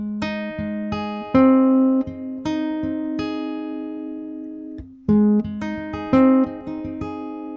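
A steady fingerpicked guitar pattern plays alone, bass notes alternating with higher plucked strings in an even rhythm, close and clean.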